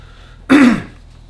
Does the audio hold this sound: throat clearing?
yes